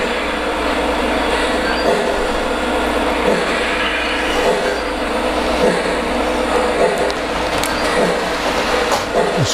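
A model train caboose with a smoke unit running on its track, a steady loud mechanical whir and rumble with faint rhythmic clicks, close and continuous throughout.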